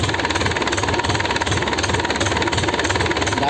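Freshly repaired vehicle engine running at idle, a steady, even, close rumble with a fast regular firing pulse throughout and no talk over it.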